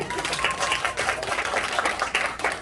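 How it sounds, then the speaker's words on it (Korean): Audience clapping at a scripture recitation contest awards moment, a brisk, fairly dense patter of hands at moderate loudness, with a voice speaking partly over it. "하나씩 드리세요. 큰 박수로."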